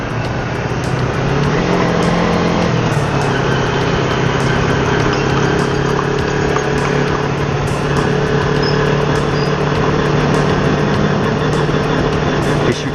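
Motorcycle fitted with an aftermarket R25 exhaust on an early-morning test ride along wet roads, its engine running steadily and continuously with a constant drone and no talk over it.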